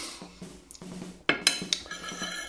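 A spoon clinks and scrapes on a plate during a meal of haggis-stuffed rabbit loin with neeps, tatties and whisky sauce, with a few sharp taps close by and quiet handling sounds between them.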